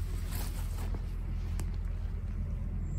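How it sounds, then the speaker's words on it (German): Tractor engine in a forest during a mushroom hunt, heard as a continuous low rumble with a broad noisy wash and no pauses, fairly loud and steady, with no voices. "Und es ist wieder von Traktorengeräusch."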